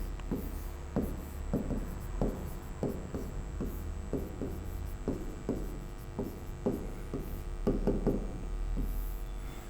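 Pen on paper writing by hand, a quiet string of quick scratchy strokes in irregular bursts, close up and alone.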